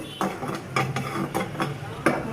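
Loitta dried fish bhuna being stirred in a pan, with soft scraping strokes of a spoon repeating every half second or so over a low, steady sizzle.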